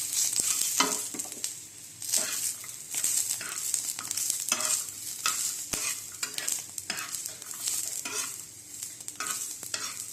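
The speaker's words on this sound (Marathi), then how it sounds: "आता ह्यात लसूण आणि जिरं ते पण थोडं भाजून घेऊया" Garlic and cumin roasting in a pan give a continuous bright sizzle, with frequent scraping strokes of a spatula stirring through it at an irregular pace, close and fairly loud.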